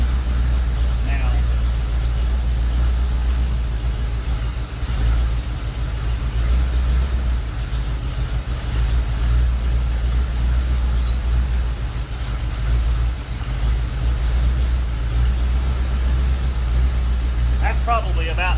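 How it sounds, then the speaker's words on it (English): A car engine idles low and steady for the whole stretch, a constant rumble with no revving, heard close up. "Now I've got it idling pretty low on"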